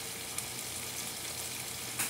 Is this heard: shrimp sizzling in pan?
yes